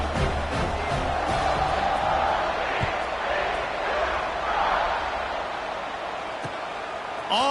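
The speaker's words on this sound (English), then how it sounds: "this crowd is buzzing after that last score." A football stadium crowd buzzes after a score and extra point, a steady dense roar of many voices with a few sharper shouts, loud and continuous throughout beneath broadcast commentary.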